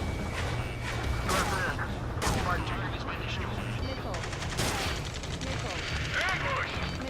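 Ace Combat 7 gunfire from a far shore: rapid machine-gun bursts and scattered shots rattle on and off, with a voice talking over the racket.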